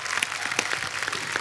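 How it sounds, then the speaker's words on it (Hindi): A studio audience applauds on a comedy talk show, steady clapping from many hands heard close and loud throughout. "आइए विराजमान हो जाइए, जोरदार तालियां।"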